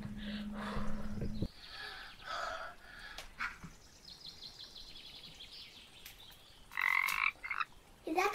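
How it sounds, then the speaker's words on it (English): A Pacific tree frog croaks in the Hoh Rainforest in repeated bursts of varying loudness, nearby and outdoors, with no talk, and a short bird-like call rises near the end. "That's a Pacific tree frog"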